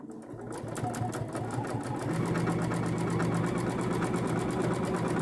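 A sewing machine stitches forward through fabric for a dog bandana, its needle chattering in a fast even rhythm close up, the motor hum holding steady and loud throughout with no talk.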